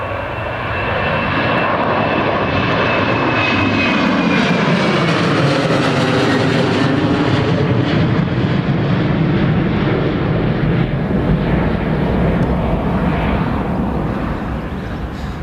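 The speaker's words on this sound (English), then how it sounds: "The pilots pitch the nose up, and the aircraft glides effortlessly into the air" A Jet2 airliner takes off from Newcastle International Airport, its engines roaring loud and steady throughout with a rising, sweeping whine as it climbs away, no voices over it.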